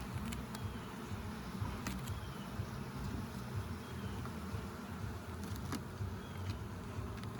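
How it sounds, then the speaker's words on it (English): Honey bees swarm around an open beehive at a summer hive inspection in Ontario, a dense, continuous low buzzing close by with occasional faint clicks, steady throughout. "Lots of bees, so."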